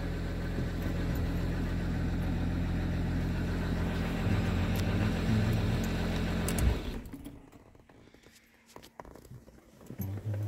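Jaguar XJ X350 2.7 V6 diesel idling with a steady, fairly quiet mechanical hum that cuts off abruptly near the end, leaving near silence.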